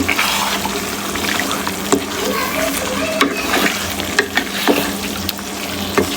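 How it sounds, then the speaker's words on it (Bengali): Chicken pieces are stirred with spices in a sizzling frying pan, a continuous loud fry hiss broken by repeated scraping strokes and soft knocks of the spoon against the pan. "এখন মশলার সঙ্গে ভালোভাবে মিশিয়ে দেবো"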